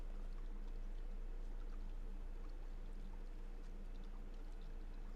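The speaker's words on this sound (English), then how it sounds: "All right, so here's the creek." Steady creek water rushing and trickling in the medieval survival game Medieval Dynasty, a constant low, even flow with no talk over it.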